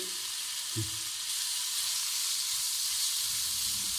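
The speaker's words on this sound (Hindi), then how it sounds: "ये सारा चिकन इसमें आप डाल दें। इसको हाई फ्लेम पे हम थोड़ा सा भून लेंगे" Chicken pieces sizzle on high flame in hot oil, a steady bright hiss with a couple of faint low knocks from the pan, no voices.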